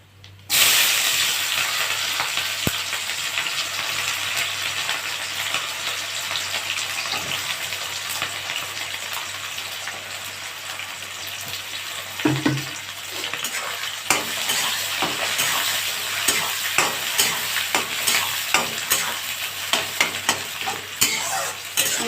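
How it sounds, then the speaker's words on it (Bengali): Chopped onions frying in oil in a pan for a Bengali mutton curry, giving a loud, continuous close sizzle with frequent scraping and clinking stir strokes that grow busier toward the end, no voices. "পেঁয়াজটাকে একটু লাল লাল করে ভেজে নিতে হবে"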